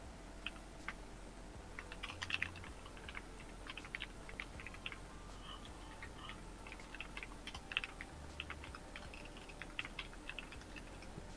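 Someone types on a computer keyboard, producing quiet, irregular bursts of light key clicks that run steadily with no talking.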